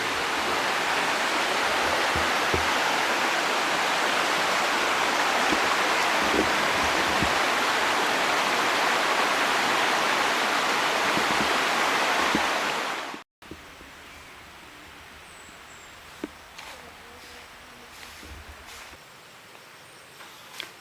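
A loud rushing stream flows steadily for most of the stretch near a cave, then cuts off abruptly to a much quieter scene with a few faint knocks.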